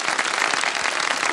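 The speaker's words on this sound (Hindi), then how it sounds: "तालियां तो बज गई ना" Studio audience on a kids' TV show breaks into brisk applause, a dense burst of many hands clapping that stays steady and fairly loud for a short moment.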